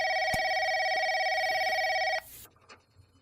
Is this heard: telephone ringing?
yes